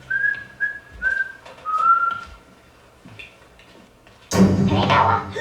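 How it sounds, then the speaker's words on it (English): A person whistling while walking down a hall, a short series of clear whistled notes in a quiet room, then a sudden burst of louder muffled noise near the end. "So I guess we gotta have you fucking whistle."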